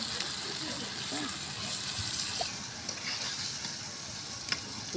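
Hilsa fish curry with eggplant sizzles and crackles steadily in a pan while being stirred, a constant close frying hiss with occasional scraping stirs.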